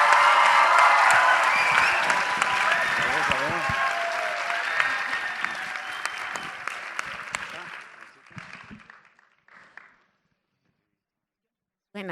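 A crowd welcoming Carlos Vives at a marine-themed videopodcast event breaks into strong, sustained applause and some cheering, then tapers off to near silence.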